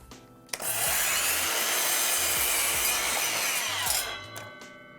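A miter saw slices through wood in a single cut lasting about three seconds, a loud, bright whine that starts abruptly and tapers off as the blade spins down.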